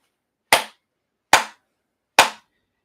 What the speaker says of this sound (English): just gonna clap my hands